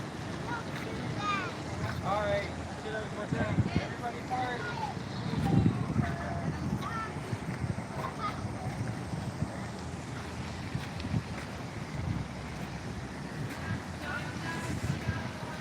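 Spring-fed stream flowing through Big Spring Park in downtown Huntsville, a steady broadband wash of moving water with some wind noise, heard beneath people talking in the foreground.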